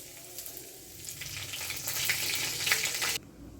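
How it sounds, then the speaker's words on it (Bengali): Dried red chilli and panch phoron spluttering in hot oil along with chopped ginger: a close crackling sizzle that swells louder toward the end, then cuts off abruptly. "একটা শুকনো লঙ্কা ফাটিয়ে দিলাম আর দেবো আর দেব পাঁচ ফোড়ন"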